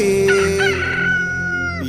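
A rooster gives a single loud, close crow, a drawn-out cock-a-doodle-doo that rises and then trails off over almost two seconds, with no talking.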